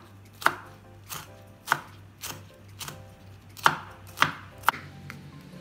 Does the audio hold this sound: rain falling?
no